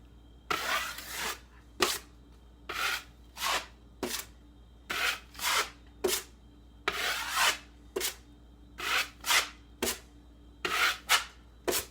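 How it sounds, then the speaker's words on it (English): A drywall knife spreads joint compound over a patched hole in a drywall wall, making about a dozen short rasping scrapes in a steady rhythm, each stroke close and fairly loud with brief pauses between. "Just using my drywall knife for starters."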